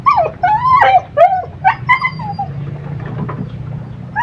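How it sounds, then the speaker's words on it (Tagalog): A dog stranded in a flooded house whimpers and yips in high, wavering cries, close and loud, over a low steady rushing of water. "Pati aso walang mapagpantungan."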